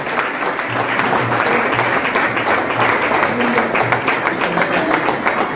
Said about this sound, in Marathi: सगळ्या रसिकांच्या वतीने एकदा जोरदार टाळ्या वाजवून राजाभाऊंना आपण शुभेच्छा देऊया